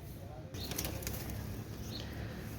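Kamagar pigeon wings flap in a short burst close by, a fluttery whir over a quiet background, with a faint voice nearby.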